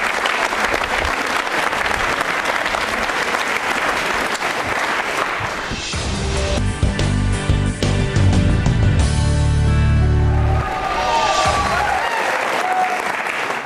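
A studio audience at a televised quiz programme breaks into loud sustained applause, which gives way midway to a swelling musical sting with a low held tone before the clapping returns at the end.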